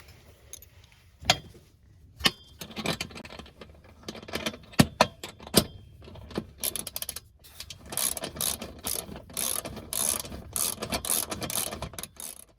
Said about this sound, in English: Can I have that socket wrench?